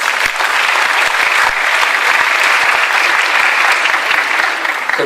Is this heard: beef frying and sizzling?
no